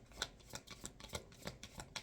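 Tarot cards shuffled by hand in a repeated series of crisp riffling bursts, several quick flutters spaced about every half second, close and fairly quiet, with no talking.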